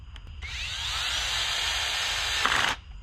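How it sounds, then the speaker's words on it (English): A small Ridgid cordless drill whirs steadily for about two seconds, close and loud, then winds down abruptly as the screw seats. "Grab our little rigid drill."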